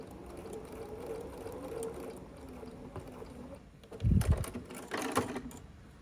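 A sewing machine runs quietly and steadily while stitching down appliqué on a quilted St. Patrick's Day placemat made from a charm pack, with a few louder handling bumps near the end.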